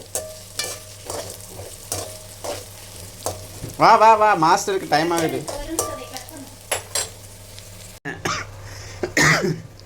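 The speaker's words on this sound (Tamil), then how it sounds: "நன்றாக வணக்கவும்." Food sizzles while being sautéed in a pan on a home stove, and a spatula clacks and scrapes at an uneven pace. Someone coughs and clears their throat, and people talk intermittently nearby.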